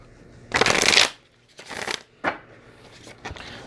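Oracle card deck being shuffled by hand, a long riffling burst followed by several shorter shuffles in an uneven rhythm, close and crisp, with no talking.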